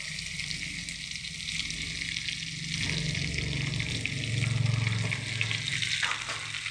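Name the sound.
raw mango pieces added to hot pan, sizzling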